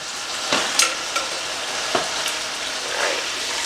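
An English roast browns in a hot pan, giving a steady bright sizzle and spatter with a few sharper pops and scrapes of the meat being moved, close and fairly loud, with no talking.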